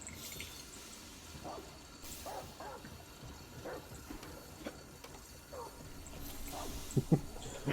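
A dog in the room gives a few scattered woofs and yips, with louder barks near the end, over a low background of video game sound.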